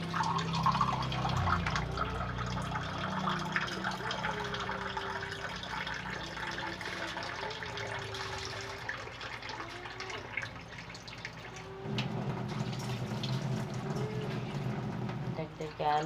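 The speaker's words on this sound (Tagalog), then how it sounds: "Tapos, lagyan ng tubig." Water poured into a cooking pot while preparing sinampalukang tambakol, a sour tamarind fish soup, a steady close pouring and dripping sound that runs throughout with background music.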